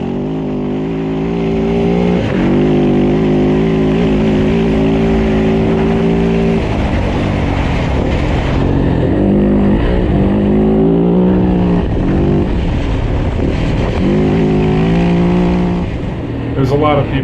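A KTM 690 rally motorcycle ridden fast during roadbook practice, its engine note loud and continuous with rising and falling revs through gear changes, close to the rider, with speech heard over it.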